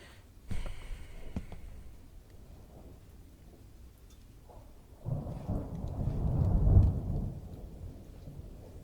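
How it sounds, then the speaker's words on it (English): Thunder in Needle AL rolls in with a distant crack, then a long, deep rumble swelling loudly toward a peak before fading, with rain hissing underneath. "Thunder."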